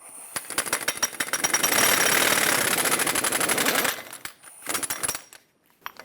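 A pneumatic impact wrench loosening the front axle nut on a 2003-2009 Dodge Ram 2500 hammers loudly in a rapid burst for a few seconds, then gives several shorter rattling bursts before stopping.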